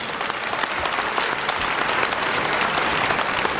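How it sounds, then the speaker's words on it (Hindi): Dense, steady audience applause at a Buddhist conference, a sustained loud wash of many hands clapping together for several seconds, with no speech over it. "यदि स्वीकार है तो आप अपनी स्वीकृति दीजिए ताली बजा के"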